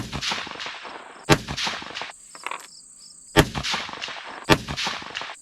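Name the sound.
6mm Dasher rifle shot with Varget powder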